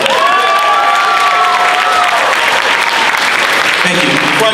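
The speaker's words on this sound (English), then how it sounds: "so y'all should have been clapping more than that" Audience applause and cheering at a campus graduation ceremony. Dense, loud clapping fills the hall with whoops and shouts on top, and voices call out over the crowd.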